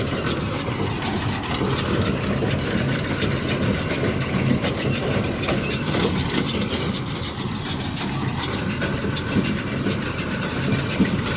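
A New Holland TD110D tractor engine runs at a steady roar with an Agri Türk baler clattering along baling alfalfa, constant and close, no talking.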